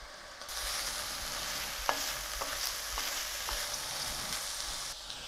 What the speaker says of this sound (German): Der Kassler ist jetzt leicht angebrutzelt.